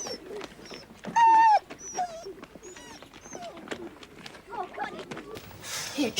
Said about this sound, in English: It ain't right to have a dog like that, Sandy.